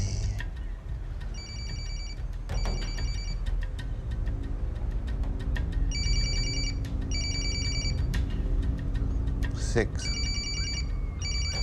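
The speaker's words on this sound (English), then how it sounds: "the phone rings." A telephone rings in short repeated double bursts through a tense film scene, with a continuous low rumble underneath and occasional speech between the rings.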